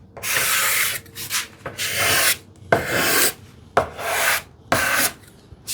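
A card scraper drawn across wooden furniture to remove a glue mark, producing loud, close, rasping strokes about once a second with brief gaps between passes, no talking.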